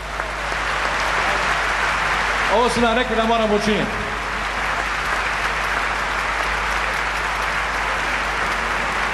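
Concert audience applauding steadily at a Dubrovnik show celebrating 40 years of artistic work, a dense, loud clapping wash lasting the whole stretch, with a voice briefly speaking over it.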